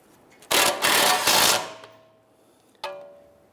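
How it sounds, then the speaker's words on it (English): A nut being spun onto a tie rod on a 2005-2010 Chrysler 300 steering rack, heard as a loud close burst of power-tool whirring lasting about a second, then a single sharp metallic clank. "Let's install our nut on here."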